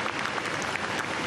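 Brief, steady applause from passersby on a Paris street as a funeral cortege with a military escort moves toward Saint-Sulpice church, an even wash of many hands clapping.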